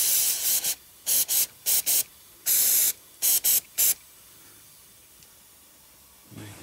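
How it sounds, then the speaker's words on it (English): An aerosol can sprays onto an MGB GT's spring hangers during restoration in a series of short hissing bursts, some longer, some quick, then stops, leaving near silence before a faint noise at the end. "let's spray a bit of this stuff on"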